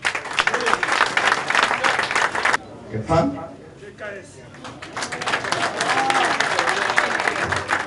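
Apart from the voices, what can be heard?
audience applause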